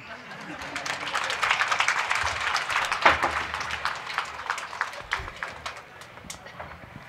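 An audience at a comedy speech claps in a brisk, dense burst that swells and then thins out over several seconds, with voices murmuring underneath.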